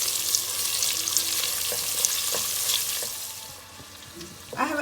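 Half an onion fries in a pan with spices for moong khichdi, a close, steady hissing sizzle with soft crackles and no voices.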